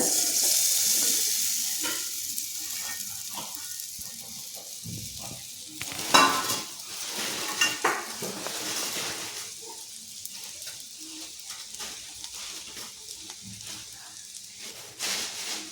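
A finely ground mixture sizzles and fries in hot ghee in a pan for boli, a steady close hiss broken by stirring scrapes and clinks.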